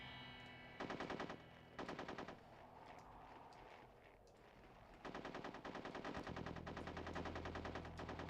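Rapid machine-gun bursts from a retro James Bond 007 video game, with two short volleys followed by a longer sustained stretch of loud, crackling automatic gunfire.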